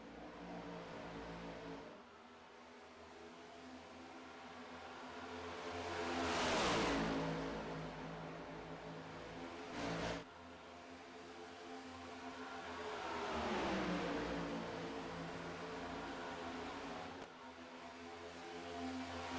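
Race car engines roar in the iRacing sim at New Atlanta with Todd Gilliland and Blaney battling for the lead, cars sweeping past in two swelling, rising-then-fading passes over a constant distant drone.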